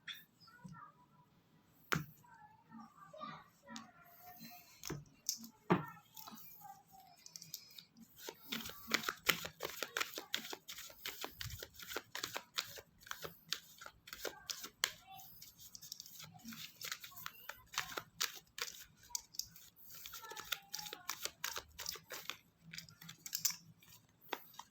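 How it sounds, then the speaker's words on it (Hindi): Tarot cards shuffle in rapid, crisp riffles and flutters with sharp snapping clicks, close and quiet, in bursts that build to a dense run of card flicks. "जी तो लिब्रास कार्ड्स को हम अच्छे तरीके से शफल कर लेंगे"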